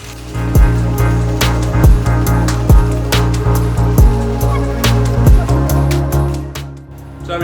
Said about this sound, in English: And give it a shake.